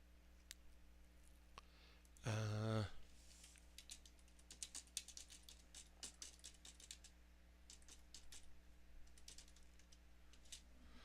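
Computer keyboard typing, quiet rapid clicks in uneven bursts across a hushed room with steady low hum, preceded by one short loud tonal chirp.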